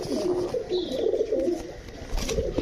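Pigeons coo in soft, repeated throaty murmurs, fairly close and continuous, with a brief faint chirp near the end.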